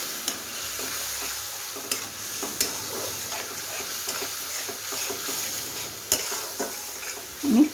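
Onion paste fries in a pan for a Bengali cauliflower curry, a steady sizzling hiss broken by scraping stir strokes and occasional utensil knocks, with a louder clatter near the end.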